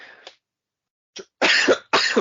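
Several coughs: one brief cough, a pause, a short throat catch, then two loud, harsh, close coughs in quick succession.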